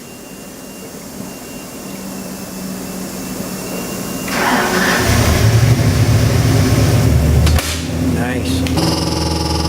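A 347 cubic inch small block Ford crate engine in a 1956 Thunderbird idles with a steady rumbling drone that swells louder midway, then settles, with someone talking briefly nearby.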